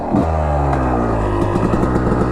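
An old two-stroke dirt bike engine revving loud and close, its ringing, buzzy pitch climbing and falling through several sharp throttle blips with a raspy crackle.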